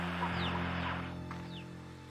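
Rooster in the Slime Rancher video game clucks in a few short, fairly quiet calls, with rising and falling chirps over a low game-ambience hum and no talking.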